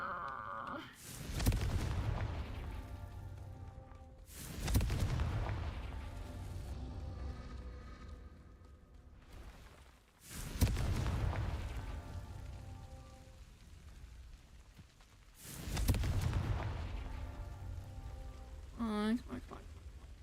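Four heavy Confringo spell explosions in the video game Hogwarts Legacy, each a deep booming blast with a crackling tail, spaced several seconds apart, with a brief voice near the end.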